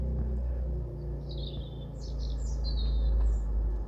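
A European robin sings at night in thin, high, warbling phrases that carry faintly over a heavy, continuous low rumble of a passing car.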